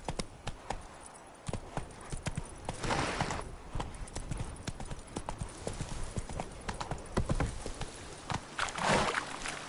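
Roach, a horse in The Witcher 3, gallops in a steady rapid clip-clop of hooves with brief whinny-like bursts, loud and close throughout.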